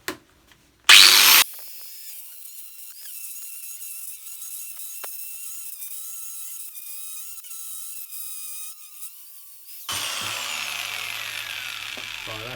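Angle grinder cutting into donor metal in a workshop, a short loud bite of the disc followed by a long steady high whine with a sustained tone, ending in a louder harsher grinding burst.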